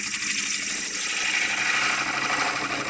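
A woodturning tool rides the bevel and rolls an edge against spinning wood on a lathe, giving a steady, close, continuous scraping hiss with a constant machine drone underneath and no talk.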